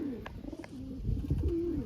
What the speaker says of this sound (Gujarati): આવા કંઈક આપણા કબૂતર છે.